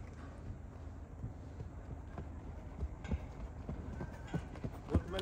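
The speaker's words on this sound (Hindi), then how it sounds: "वो कॉर्नर पे घोड़ा आएगा जब दीवार के पास" A horse walking on ground during a Monty Roberts join-up training session, its hooves clip-clopping in an irregular rhythm at moderate distance, with wind and low background noise.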